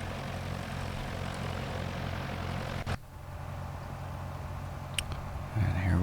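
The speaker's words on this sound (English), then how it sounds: "Okay, taxiing into runway 23." A simulated general-aviation light aircraft taxis toward runway 23 in the X-Plane flight simulator, giving a steady low propeller-engine drone that dips briefly midway and then resumes, with no talking.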